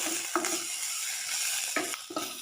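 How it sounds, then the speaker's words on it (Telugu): Ginger garlic paste fries in a pan for a cauliflower curry, giving a steady, close sizzle broken by a few scraping stirs of a spoon against the pan, with no voices. "మంచిగా అల్లం వెల్లుల్లిపాయ పేస్ట్ని కూడా మనం వేయించుకుందాము"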